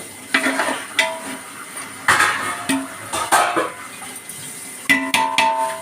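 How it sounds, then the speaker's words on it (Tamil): Tomatoes sautéing with salt in a pan for a Muslim wedding biryani: a spoon knocks and scrapes against the pan in irregular strokes with a faint sizzle beneath, close and clear, with no talking. "தக்காளி வதங்குறதுக்கு கொஞ்சம் உப்பு போடுறேன்."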